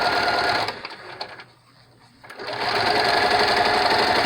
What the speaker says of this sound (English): we're going to top stitch or edge stitch that t-shirt